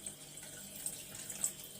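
Water runs steadily from a kitchen tap into a bowl or sink to soak food before boiling, a soft continuous hiss and splash heard alone at low level.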